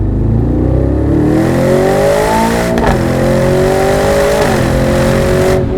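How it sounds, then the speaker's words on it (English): A 2026 Aston Martin Vantage Roadster engine revs hard toward redline, its loud, close roar climbing in pitch, dipping briefly at each gear change, then climbing again with no one speaking. "I think that might be my first time ever taking a Vantage to Redline"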